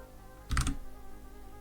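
Two computer keyboard keys struck together in a quick pair of clicks while playing a retro-style space game, close and fairly quiet against faint background hum.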